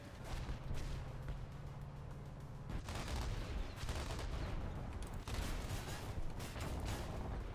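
Sustained rapid autocannon gunfire in War Thunder from a Type 87, firing a sub-calibre ammunition belt, loud and continuous, with dense repeated bursts and a low rumbling background throughout.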